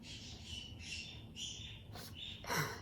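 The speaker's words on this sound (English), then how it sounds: "that's my birds out there singing and chirping" Pet birds squawk and chirp in the background, a series of sharp calls in bursts at moderate distance, with a louder squawk near the end and no talking.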